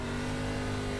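An ARCA race car in iRacing at Knoxville holds a steady, loud engine drone with a strong, even tone and no talk over it.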